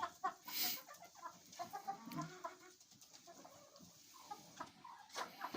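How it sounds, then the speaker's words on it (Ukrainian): Hens clucking inside a chicken coop, a scatter of soft, irregular clucks and short calls at close range, with one louder squawk near the start, alone without talk. "сидять курочки."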